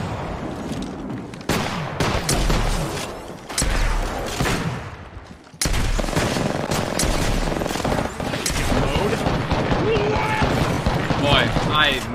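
Rapid bursts of gunfire from the Apex Legends video game ring out in loud clusters with brief gaps, mixed with game effects while a player talks over the action.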